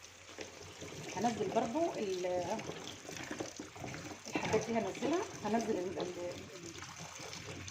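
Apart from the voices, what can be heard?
tap water running while washing taro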